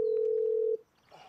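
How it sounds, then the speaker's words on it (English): A telephone dial tone hums steadily and loudly for under a second before cutting off, leaving quiet room noise after it. "Better phone the granny here now."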